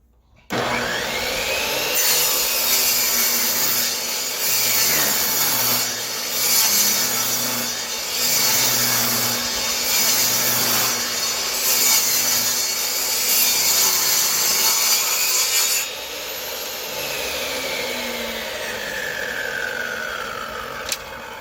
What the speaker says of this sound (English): Just ripping the battens to size.